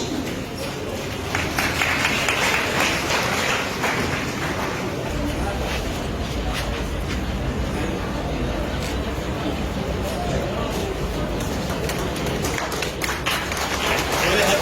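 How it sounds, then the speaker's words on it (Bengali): An audience claps loudly for guests at a district voter awareness event, a dense sustained patter of applause heard alongside voices over a busy hall. "জোরে হাততালি"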